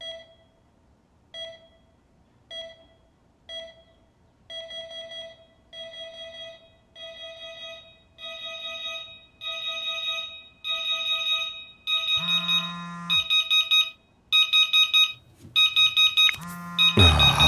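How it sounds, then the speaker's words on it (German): Alarm clock ringing in the video game Fall of Porcupine: repeated electronic beeps in evenly spaced bursts that grow louder and quicker, ending in a dense, continuous jangle with a low buzz underneath. "Dieser Wecker."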